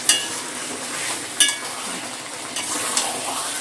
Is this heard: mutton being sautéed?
yes